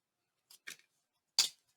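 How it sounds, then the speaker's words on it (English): Scissors snip through paper while cards and journal tags are being made, giving two quick soft cuts followed by one louder, sharper snip, close by and alone in a quiet room. "I'm going to cut right through the center."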